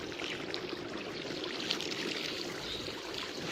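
Water pours steadily onto newly planted melon beds and fertilized garden plants in a rural Thai yard on a morning of watering and soil preparation: a continuous, fairly loud rushing splash with no pauses.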